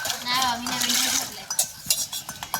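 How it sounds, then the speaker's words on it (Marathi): Pots, pans and steel utensils clink and scrape as a mother scrubs dishes in a village setting, with steady clatter that turns into sharper separate knocks, and a brief voice near the start. "मम्मी घास भांडी घास"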